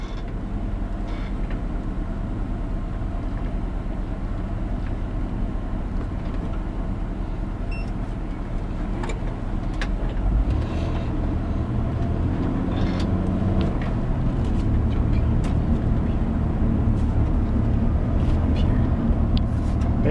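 Inside a van driven with hand controls from a wheelchair, a steady low engine and road rumble that grows louder as the vehicle picks up speed, with occasional clicks and creaks from the cabin.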